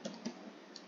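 A few quick keystrokes on a computer keyboard, close and light, over a steady background hiss.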